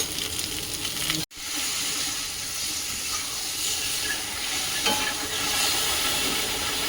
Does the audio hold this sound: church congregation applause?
no